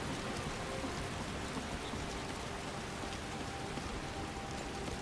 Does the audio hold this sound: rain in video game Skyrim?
yes